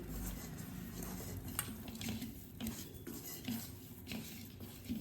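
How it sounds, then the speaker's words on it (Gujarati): Soft squishing and mixing of a thick chutney paste by hand with a little oil, with faint scraping and small clinks against a dish, no voices. "હાથ વડે સરસ મિક્સ કરી લઈશું"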